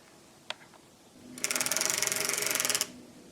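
Needles being set into the cylinder of a circular knitting machine: a faint click, then a rapid mechanical rattle of evenly spaced ticks lasting over a second, close and fairly loud.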